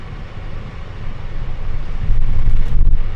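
A car air conditioner blows a steady low roar of rushing air, broad and close, rising louder in the final second.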